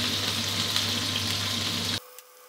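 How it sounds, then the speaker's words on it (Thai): Fresh shrimp sizzle in hot oil in a wok, a loud, steady frying hiss that runs for about two seconds and then cuts off sharply, leaving near silence. "นี้เราจะฉากุ้งกับน้ำมันร้อนๆสักครู่นะครับ"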